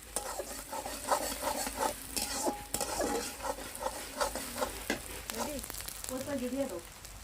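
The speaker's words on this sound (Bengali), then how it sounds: "পেঁয়াজ কুচিটা আমরা হালকা হালকা করে ভেজে নেব" Chopped onion and chili fry lightly in oil with a quiet sizzle, broken by stirring scrapes and clinks of a utensil against the pan, while someone talks over it.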